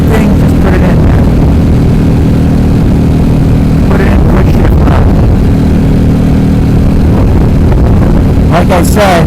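A 2011 KTM RC8R fitted with an Akrapovic exhaust and quick shifter revs hard as it clicks up through fourth, fifth and sixth gear, a loud, steady engine roar broken by brief shift gaps, with wind noise throughout.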